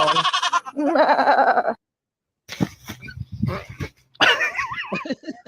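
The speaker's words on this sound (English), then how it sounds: "The goats are bred to faint like that." Goats bred to faint bleat loudly and nasally in quavering calls, first a long wavering cry, then after a pause rougher coughing sounds, then another bleat, close and clear.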